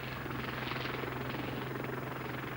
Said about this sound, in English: The Westland Lynx is undoubtedly the best helicopter yet developed in the UK